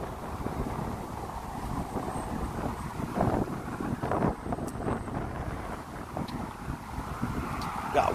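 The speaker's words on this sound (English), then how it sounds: "Got windy all of a sudden." Steady wind buffeting the microphone, a constant low rumbling roar with gusty swells throughout.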